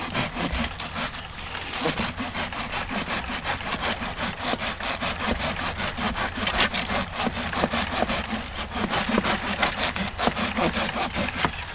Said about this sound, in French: Alors maintenant on va passer à la scie Silky, la Silky, marque japonaise.